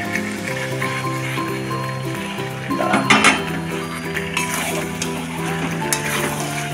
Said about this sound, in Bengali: এবার আমি আলুটা দিয়ে একটুখানি নাড়িয়ে নেব